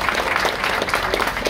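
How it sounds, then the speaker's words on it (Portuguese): Party guests at a festa junina celebration clap in a dense, close burst of applause filling the short moment, with no talk over it. "eu queria uma salva de palmas para a Marlene Sampaio."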